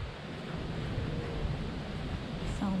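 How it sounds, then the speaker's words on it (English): Water flows in Angrignon Park in Montreal with a constant soft rushing wash, heard faintly under light wind, with brief voices near the end. "listen to the water"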